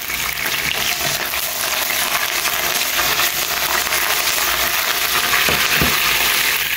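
Curry leaves, mustard seeds and garlic sizzling loudly in hot oil for dal, with a dense continuous crackle and a few sharp pops near the end.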